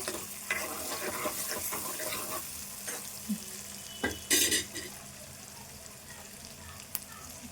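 Onions with turmeric being stirred in a pan for a chicken and horse gram curry, a soft steady sizzle under scraping spoon strokes, with a few sharper clanks and a brief splashing burst midway, close and quiet.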